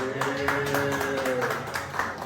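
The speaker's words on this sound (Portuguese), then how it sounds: "Palmas." Participants in a music workshop clap their hands in rhythm, a steady series of sharp claps over sung or spoken voices during a group exercise.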